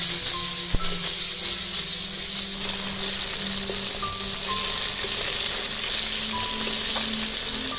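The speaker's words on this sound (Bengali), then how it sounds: "তেল গরম হলে মাছ দিয়ে দেবে, এপিট ওপিট উল্টে বেশ লাল লাল করে ভাজবে।" Fish fries in hot white oil in a wok, giving a continuous close sizzle with fine crackling and a few faint clinks, steady for several seconds with no talking.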